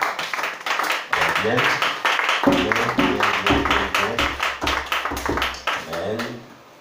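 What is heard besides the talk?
congregation clapping to acclaim Jesus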